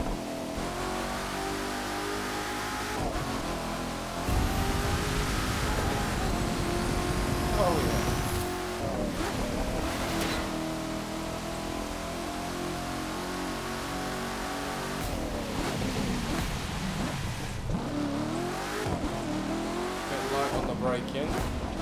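A 2009 Chevrolet Corvette ZR1 driven in the racing game The Crew 2 revs hard and climbs through the gears, its loud, continuous engine note rising and dropping at each shift.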